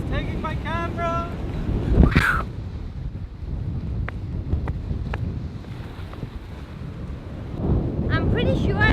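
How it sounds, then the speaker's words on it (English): Strong wind roaring and buffeting the microphone beside a waterfall on Koh Samui, a steady loud rush with a sharp gust-hit near the middle, while a person talks at the start and end. "The wind is taking my camera!"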